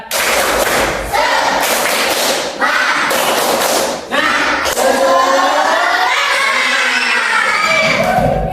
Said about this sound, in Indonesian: Sekarang sama-sama dalam hitungan ketiga kita lakukan tepuk semangat.